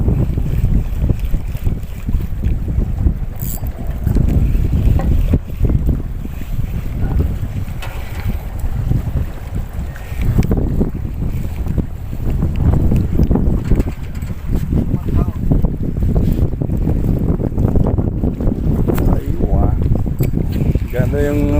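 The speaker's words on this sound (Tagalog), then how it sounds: "Ayaw tumigil yung hangin, tayo titigil maya." Strong wind roars and buffets the microphone continuously while fishing on the Corniche in Abu Dhabi, with water sloshing and a voice talking over it now and then.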